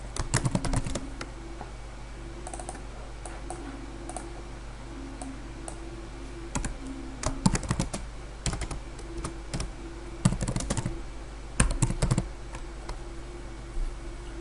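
Computer keyboard typing with irregular bursts of clicky keystrokes and short pauses, close and fairly quiet, with no voices.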